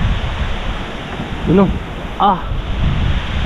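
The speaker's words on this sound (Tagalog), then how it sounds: "Yung lakas ng hangin mga kabisdak." Strong wind buffets the microphone outdoors at a road-construction site, a loud, steady roaring rumble throughout, with a brief voice breaking through twice.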